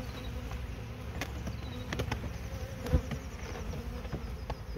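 Honeybees swarm around hives as a colony is moved into new brood boxes, a dense steady buzzing close by with scattered clicks and taps from handling frames throughout.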